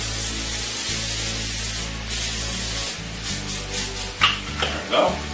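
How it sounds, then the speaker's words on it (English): Several short hissing bursts of an olive oil cooking spray, first a long spray, then a few quick puffs close up, with faint rustling between them. "We're gonna put some olive oil spray because we don't want it to stick."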